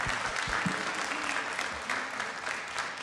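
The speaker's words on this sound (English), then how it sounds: "Let's give them a big round of applause just for coming down." A city council chamber audience claps for a visiting group of people with developmental disabilities, a steady, dense round of applause filling the room for the whole stretch at moderate volume.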